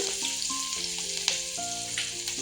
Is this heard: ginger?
yes